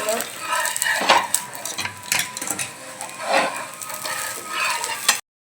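Tomato uttapam frying on a hot pan and being flipped with a spatula, a soft sizzle under scraping and clinking utensil strokes, with a voice talking faintly in the background.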